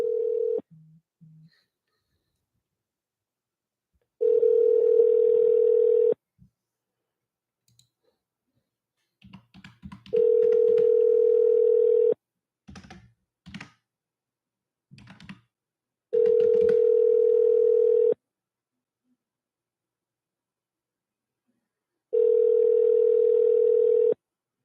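Telephone ringback tones while calling back by phone, four long steady beeps repeating at even intervals several seconds apart, with clicks and soft handling noises in the gaps.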